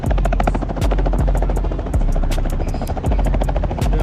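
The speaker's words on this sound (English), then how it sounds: "Yeah, helicopter." A nearby helicopter lands at a car show, its rotor blades chopping loud and fast in a steady rhythm over a low engine drone.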